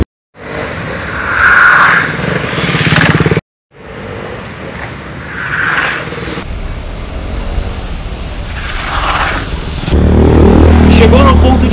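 Motorcycle engine revving hard while the clutch is slipped and then released during a sideways riding drill, loud and sustained with rising and falling pitch and a short cut in the middle, someone talking over it.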